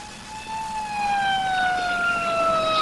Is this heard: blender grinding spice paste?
no